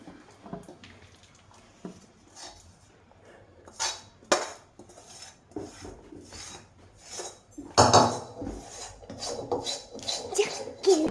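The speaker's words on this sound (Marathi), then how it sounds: "आता हे आपण एक हे तूप लावून घेतलेल्या परातीवर हे आपण लगेचच टाकून घ्यायचं आहे" A hot peanut chikki mixture is scraped and spread onto a ghee-greased metal plate, with repeated clinks, rasps and scrapes of a utensil against metal, irregular and close, some strokes louder than others.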